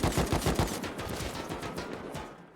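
Dense, rapid automatic fire from an AK rifle in the video game Rust, loud and sustained bursts crackling continuously through the whole stretch with no voices.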